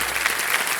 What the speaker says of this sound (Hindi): ताली बज जाए स्टेनोग्राफर के लिए।